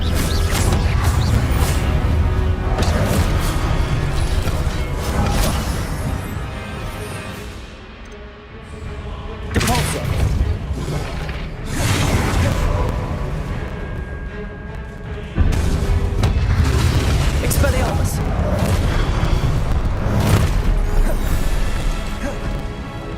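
A Confringo blast spell in Hogwarts Legacy erupts amid heavy combat, with loud crashing impacts, mechanical rumbles and whooshes layered continuously across the fight.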